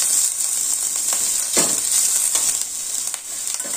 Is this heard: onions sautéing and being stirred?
yes